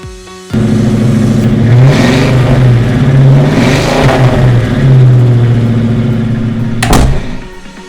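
A magic flying car in an animated story revs its engine loudly and close, a steady mid-pitched whir rising and falling in pitch for several seconds before a sharp burst near the end, with no talking.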